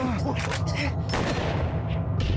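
Rapid bursts of gunfire in the video game Silent Hill 2 crackle and boom in quick succession, with an excited voice talking over the shots.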